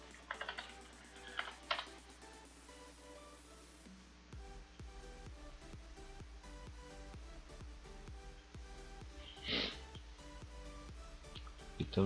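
Rapid, irregular keystrokes on a computer keyboard while coding a web app, close and fairly quiet, with scattered louder taps and a brief pause near the start; no speech over it.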